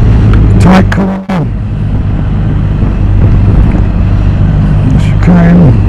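A BMW R1250 RT motorcycle on a track, its engine note falling as the rider brakes and downshifts into a tight corner, with heavy wind buffeting the microphone and a brief dropout partway through.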